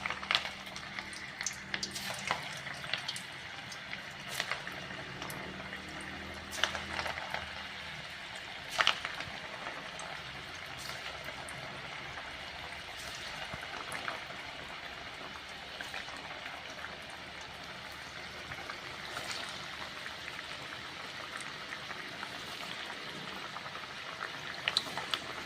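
Potato snacks deep-frying in hot oil on a low flame, a steady bubbling crackle with scattered sharper pops, continuous and close with no talking.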